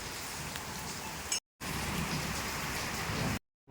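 Heavy rain pours at a wooden Sun temple, a dense continuous hiss broken by two brief dropouts.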